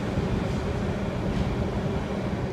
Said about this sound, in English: the trains coming through and the noise of it